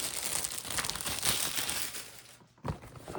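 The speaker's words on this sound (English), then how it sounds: "In case you like the sound of plastic." Plastic packaging crinkles and rustles steadily during an unboxing of a Caddx Protos Ascent HD system box, close and continuous, with a brief quiet gap near the end before the handling resumes.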